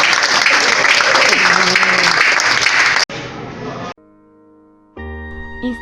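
A church congregation at a deliverance service claps loudly for about three seconds. The applause cuts off abruptly and gives way to quieter electronic tones and music.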